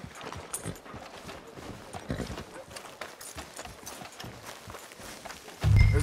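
Horse hooves clip-clopping in the video game Red Dead Redemption 2, a steady rhythmic patter of hoofbeats on a street, continuous and fairly close, with a louder thump at the end.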